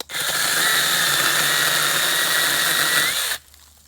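A Sainlogic battery-powered mini chainsaw cuts through a piece of dead red maple, its high, steady electric whine and chain rasp running loud and close for a few seconds before stopping abruptly.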